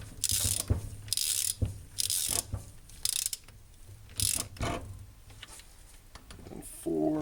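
Ratchet wrench tightening the cylinder head bolts on a Honda D16Y8 engine in torque sequence: repeated bursts of loud, close ratcheting clicks separated by short pauses, with a voice briefly heard near the end.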